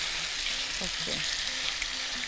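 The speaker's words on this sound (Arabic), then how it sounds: "وهننزل الفراخ نشويها" Chicken fries in a light coating of oil, a dense, even sizzle heard up close for the whole stretch, with a couple of brief bumps or stirring sounds partway through.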